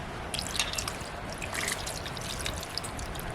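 Water trickles and drips into a pot of small fish on a village wood-fired clay stove, a soft, close pouring and patter at low volume with no talking.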